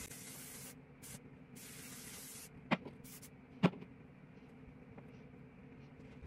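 Shine spray misted onto hair while styling a wet-look liquid hairstyle on extensions: a broadband hiss runs from the start to about 2.5 seconds, then quiets. Two sharp clicks follow over a low background.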